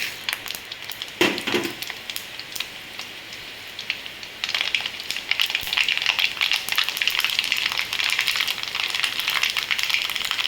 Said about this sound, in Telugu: ఇప్పుడు పసుపు పోపు గింజలు వేసేసుకున్నాం.